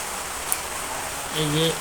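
Heavy rain pours in a steady, even hiss lasting just under two seconds, with a few faint tonal sounds near the end and no talking.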